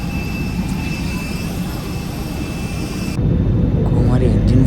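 A passenger airliner's jet engines roar during flight, a steady loud broadband drone with a high whine that drops away partway through, heard from inside the cabin.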